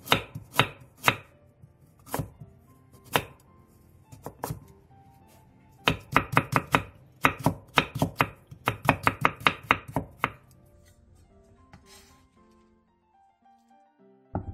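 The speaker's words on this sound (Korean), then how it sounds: "우엉은 5에서 6cm 정도 크기로 잘라준 뒤 길게 채 썰어주세요." Burdock root is cut into long thin strips with a knife on a board, sharp chopping strokes landing in irregular runs, then in a quick steady flurry, before falling quiet.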